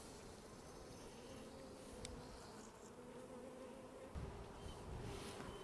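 Honey bees buzz in a steady, dense hum close by in an opened colony, with a few soft knocks and shifts in the swarm's drone.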